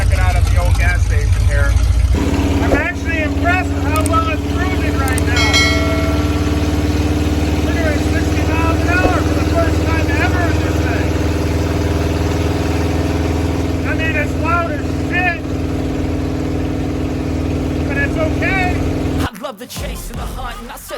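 A 1928 Model A gasser rat rod cruises with a steady, loud engine drone under music with singing, while its note shifts only slightly across the run.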